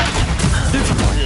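A Confringo fire spell goes off in Hogwarts Legacy as a loud, crackling blast. It is close and dense, and a player's voice shouts over it.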